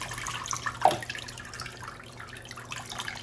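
Watering orchids, mainly oncidium types, at home: a soft hose or tap trickle with light splashing and a brief louder splash early on, fairly quiet and steady.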